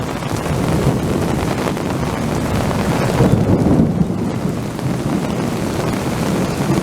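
Heavy rain pours down in a steady, dense roar during a sudden downpour, loud and continuous with gusty wind-like rumbling throughout.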